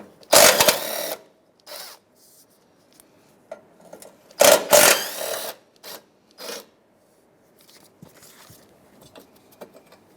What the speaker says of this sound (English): we'll take out these two bolts here, which means this metal bracket is going to come out with the headlight.